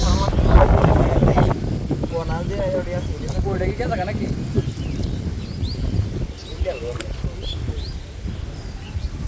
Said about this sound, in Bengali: বাতাস, প্রচন্ড বাতাস।